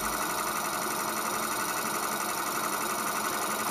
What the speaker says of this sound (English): this is just magnetism running that motor